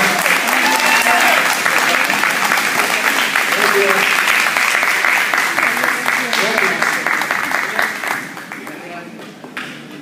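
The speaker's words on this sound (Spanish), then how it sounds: "que les dijimos un fuerte aplauso a este maravilloso mariachi." Audience applause for a mariachi band at a Texas concert, loud sustained clapping from a large crowd that tapers off toward the end, with some crowd voices mixed in.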